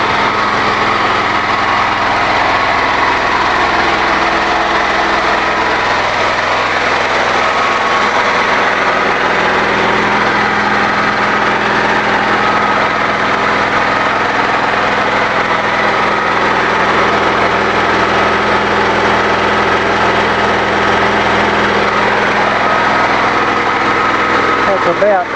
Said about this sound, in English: About 10 hours on the new engine so far. It runs very well